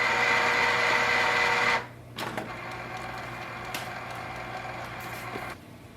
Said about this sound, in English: Now deep cleaning take little bit more ink and little bit more time